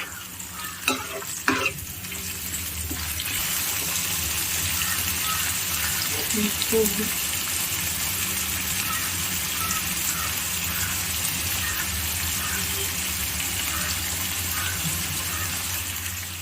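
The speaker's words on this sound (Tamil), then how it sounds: "இப்போ நல்லா இது எண்ணெயில் கொஞ்சம் ஃப்ரை ஆகட்டும்" Chicken pieces frying in hot oil for a non-veg dish, a loud continuous sizzle that hisses steadily throughout, opening with a few stirring knocks against the pan.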